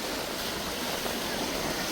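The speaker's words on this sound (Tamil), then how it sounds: "அலை பார்த்திங்கன்னா சொல்லவே வேணாம், பயங்கரமாக இருந்தது." Ocean waves wash onto a beach at Nagapattinam in a steady, dense roar of surf mixed with wind noise, constant and moderately loud, with no distinct voices.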